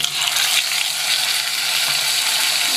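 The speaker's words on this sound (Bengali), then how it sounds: "ভাজা ভাজা করে নিচ্ছি" A paste of ground green chilli, ginger and cumin fries in hot oil, giving a steady, close, broadband sizzle with no talk over it.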